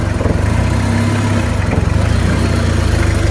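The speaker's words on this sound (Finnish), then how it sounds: "miten tämmönen auto pääsee tuosta ihan vaan tyhjäkäynnillä" A Toyota Land Cruiser engine idles steadily with no throttle, out on a wintry military-style off-road course, giving a continuous low rumble with a mild vibrating throb.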